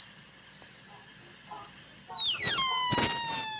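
A toy flute whistle holds a steady, bright high pitch, then slides sharply downward into a lower, mournful tone, ending with a short breathy burst, loud and close.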